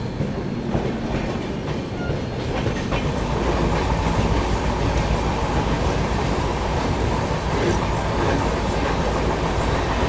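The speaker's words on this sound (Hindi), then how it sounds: "चलिए दोस्तों ट्रेन अपनी निकल चुकी है शाहजहांपुर से" Delhi–Rajgir Shramjeevi Express passenger train running after leaving Shahjahanpur, a steady loud rumble with rhythmic wheel clatter on the rails throughout, heard from on board without talk.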